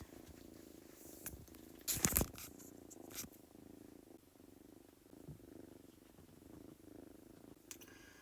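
Kittens purring and playing nearby, a soft steady purr running underneath with scattered scrapes, rustles and a short burst of louder scuffling in the middle, and no talking.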